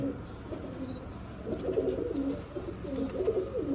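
A teddy pigeon coos close by in repeated low, rolling phrases, starting softly and then fuller and rhythmic through the second half.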